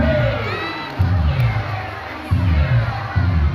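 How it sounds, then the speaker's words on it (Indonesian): Crowd at a seal show cheers and shouts, children's voices prominent, in loud repeated surges with excited whoops over a noisy open-air venue. "kasih tepuk tangan yang besar di bawah"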